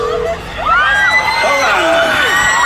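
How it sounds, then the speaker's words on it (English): A live concert crowd at an outdoor festival set in Brisbane cheers loudly, with whoops and high shouted voices rising over sustained roaring noise, close and dense throughout. "Did not think that would get a round of applause, but I'll take it."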